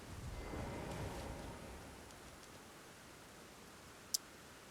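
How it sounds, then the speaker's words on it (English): Rain falls steadily in the video game Elden Ring, a soft continuous hiss of rainfall with a faint distant rumble early on and a single sharp tick near the end. "can it please stop raining? I really don't like it when it rains. Like, the sound of rain is just annoying me."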